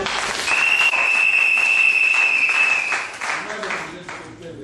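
Loud sustained applause from a wedding crowd, with a shrill whistle cutting through for a couple of seconds before the clapping gradually thins out.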